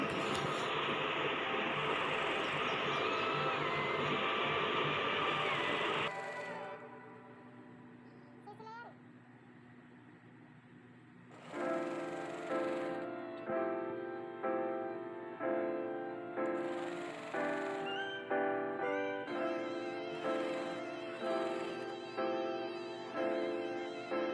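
A voice is heard before a sewing machine stitches a salwar in short repeated bursts, each a buzzing whir that starts and stops in an even rhythm.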